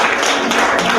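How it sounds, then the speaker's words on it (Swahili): A church congregation applauds for Jesus in a loud, dense wash of clapping from many hands, sustained and close for a brief moment. "Simama tu, mpigie Yesu makofi"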